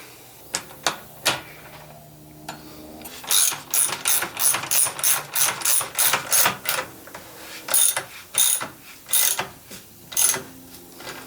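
A hand ratchet clicks on the rear axle nut of a V4 Honda CBR800 motorcycle during a back wheel build, first in a few scattered clicks and then in steady bursts of crisp, close ratcheting with no talking.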